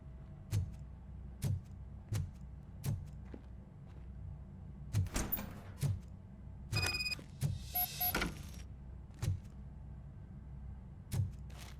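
A door opening in the video game Robocop: Rogue City, heard as a series of mechanical thuds and clunks with a brief hissing, whirring stretch in the middle, over a low steady game ambience.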